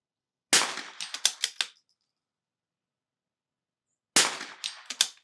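.22 rifle shots on an NRL22 match course: two rapid bursts of sharp, close cracks, a cluster of about five shots early on and another cluster near the end, separated by silence.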